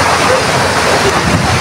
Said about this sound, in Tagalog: Ang lalaki na po ng alon